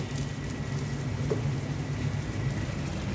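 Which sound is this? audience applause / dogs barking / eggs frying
eggs frying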